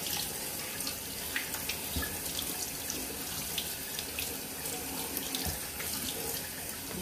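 Tap water runs steadily into a sink while sorrel is rinsed, a continuous close splashing wash that holds even and unbroken throughout, with no one speaking.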